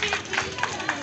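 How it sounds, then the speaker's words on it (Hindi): An audience claps at a lucky draw ceremony. The applause is a dense, continuous patter from a nearby crowd that lasts only about a second. "एवरीबडी रामीन के लिए तालियां पहले।"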